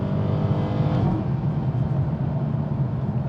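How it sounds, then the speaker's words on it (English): A 2021 Chrysler 300 SRT with a naturally aspirated 6.4L Hemi V8 launches and pulls hard, its loud engine roar climbing in pitch, then settling into a sustained heavy drone from inside the car. "quickly apply throttle. Here it goes. This thing is no slouch."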